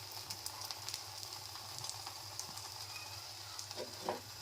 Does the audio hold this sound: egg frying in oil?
yes